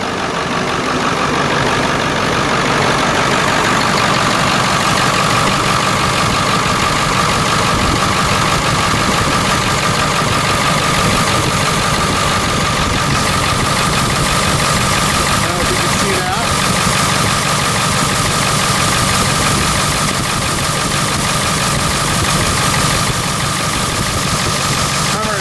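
A cold 1999 Ford F450 crew cab dually with the 7.3L diesel idles loudly and steadily up close, a dense continuous engine roar with an even clatter that runs unbroken for the whole stretch.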